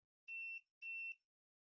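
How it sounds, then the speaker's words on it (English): A continuity meter beeps while PS5 console connections are tested during a repair: two clean, steady electronic tones, each about a third of a second long, separated by a short gap, clear against silence. "It's beeping."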